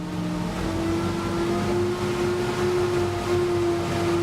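BRDM-2M military armored vehicle engine held at a steady half-throttle rev, a close, continuous drone with a strong sustained tone and no voices.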